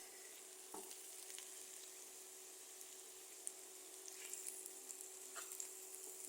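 Taro (kochu) bhaji frying in a pan, nearly done, giving a soft, steady sizzle with a few faint ticks and scrapes, quiet and close.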